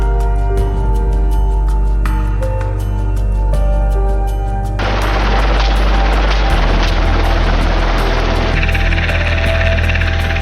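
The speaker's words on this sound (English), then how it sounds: "Helicopters have become an important element in wild boar hunting." A helicopter flies over a wild boar hunt, its loud, continuous rotor and engine drone building into a broad roar, with music playing over it.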